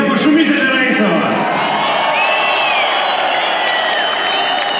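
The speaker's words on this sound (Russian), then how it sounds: "Друзья, пошумите для Раисова!" A loud arena crowd cheers, whoops and shouts for fighter Raisov after a bout, a continuous roar of many voices close up and unbroken.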